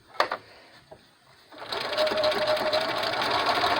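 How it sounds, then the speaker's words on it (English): Sewing machine stitching a fabric face mask made from a t-shirt: a couple of brief taps and clicks, then a steady close, fast-running whir of the needle for the last two seconds. "And I'm going to start sewing again."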